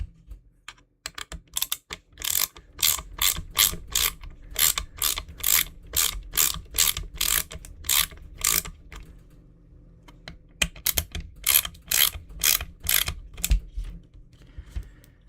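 A screw is driven into a Tamiya Hornet EVO RC buggy kit with a ratcheting driver, rapid crisp clicks in two long runs separated by a short pause, close and unaccompanied by talk.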